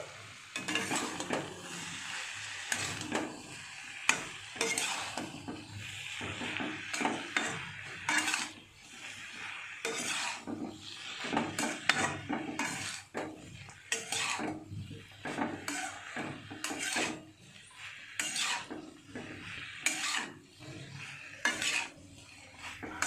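Food sizzling and frying in a pan during home cooking, with a utensil repeatedly stirring and scraping through it in a steady, busy rhythm; close and moderately loud, with no talking.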